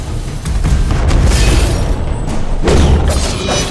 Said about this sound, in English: Come on, shoot the cannon.